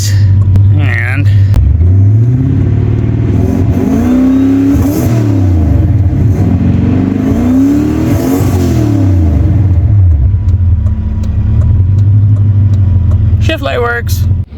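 A turbocharged Lincoln Town Car engine revs repeatedly up and down, loud and close, with a deep rumbling idle between the rising and falling pulls.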